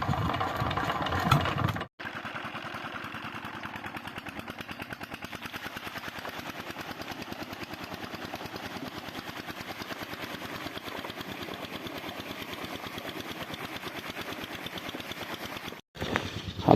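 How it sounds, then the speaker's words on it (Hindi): A diesel tubewell pump engine runs for irrigating a farm field, its loud, steady rapid chugging continuing for about fourteen seconds between brief breaks near the start and end, with no talk. "ट्यूबवेल चलाते हैं क्योंकि आज हमने लगाना है खेत में पानी।"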